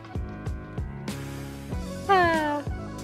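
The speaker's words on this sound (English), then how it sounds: "My cat also demands attention." A house cat meows for attention in a series of short, close cries, ending in one longer, drawn-out meow, with some quiet room noise between the calls.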